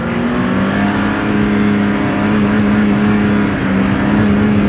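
A car engine with a failing, smoking transmission is held at full throttle, a loud steady high-revving drone with a strong tonal whine, sustained close and unbroken with no talking.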